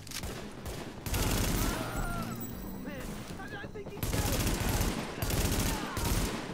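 Automatic weapon fire in the video game The Division, loud rattling bursts broken by a short lull, with a tense voice speaking over the shooting.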